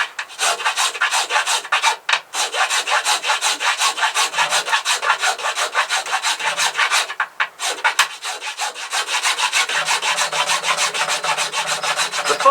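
A rasp or file works a walnut flat bow covered in fiberglass cloth, with steady rhythmic scraping strokes up close and a couple of brief pauses.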